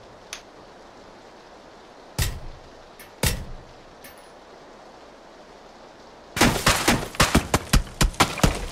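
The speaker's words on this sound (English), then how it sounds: "Where are they shooting you at?" Gunfire in PLAYERUNKNOWN'S BATTLEGROUNDS during a three-person squad match: a few scattered distant shots and two louder single cracks, then a rapid burst of sharp shots near the end, with no talk.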